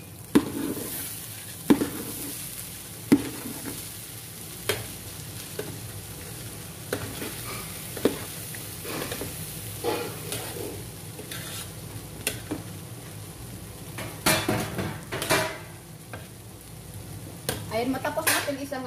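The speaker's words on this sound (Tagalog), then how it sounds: "matapos natin isangag sa mantika" Rice mandi rice stir-frying in hot oil in a pan, giving a steady low sizzle broken by repeated sharp scrapes and clinks of a spatula stirring, at moderate distance with no talk.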